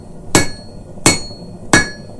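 A hammer strikes hot steel three times at the edge of an anvil while forging a simple Christmas ornament, each blow a loud, close, ringing clang at an even, deliberate pace.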